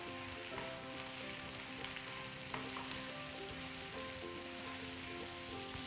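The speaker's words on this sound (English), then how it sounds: "And my cabbage. All the veggies are gone into my pan. Just gonna give a stir." Cabbage and mixed vegetables frying in a pan give a steady, fairly faint sizzle, with a few soft stirring scrapes and clicks through it and no talking.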